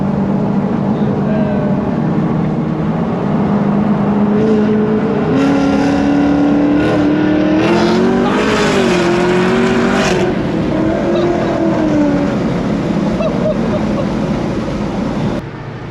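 A cammed Dodge Demon 170 engine revs up loudly and close, rising pitch sweeps between roughs of idle, sustained for the whole stretch, with brief voices mixed in.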